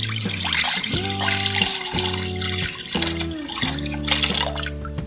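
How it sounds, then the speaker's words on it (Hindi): A litre of milk pours into a big bowl in several separate gurgling streams, close by. Each pour has a hollow tone that rises in pitch as it fills, and no one talks. "ये हम बड़ा बाउल ले लेंगे, इसमें हम दूध डाल लेंगे 1 लीटर"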